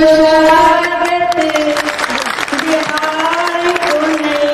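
An audience in Bapu auditorium, Patna claps and cheers in welcome at a state-level workshop, with steady, dense applause filling the hall under a loud amplified voice.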